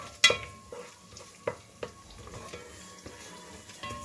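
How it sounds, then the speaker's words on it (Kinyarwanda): Cabbage fries in a pan with onion and carrot, giving a faint sizzle broken by several sharp clinks and scrapes of a spoon stirring against the pan, heard close with no talking. "ubu ngubu tugiye gukaranga yamashu"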